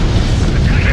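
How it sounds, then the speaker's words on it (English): A missile explosion in the Ace Combat 7 flight combat game, played in VR mode: a loud, dense, sustained rumbling boom that fills the whole short moment, with no talk over it. "Missile fire."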